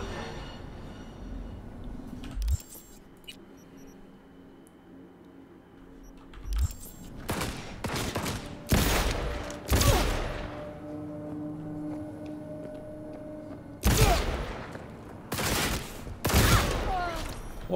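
Enemy gunfire in the video game Cyberpunk 2077, arriving in several sharp, loud bursts of shots separated by quieter gaps, with a low background hum of game ambience.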